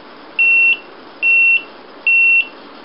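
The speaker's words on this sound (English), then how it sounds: "the buzzer sounds in cadence with the LED lighting up" A small buzzer in a 556 timer IC circuit beeps three times at a steady, even rhythm, each tone clear, piercing and identical, with quiet gaps between them.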